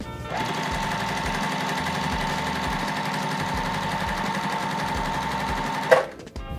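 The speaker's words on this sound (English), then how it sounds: "Now I'm gonna just put these together and we're gonna sew all the way down." A sewing machine stitching quilt pieces together in one continuous fast run, a steady close mechanical whir and rapid needle chatter that stops abruptly near the end.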